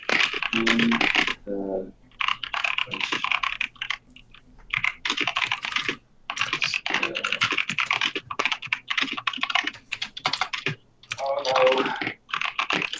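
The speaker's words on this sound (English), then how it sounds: "he's typing in Skype" Bursts of rapid keyboard typing with clacking keys, interrupted by a brief spoken exclamation, fairly close and clear.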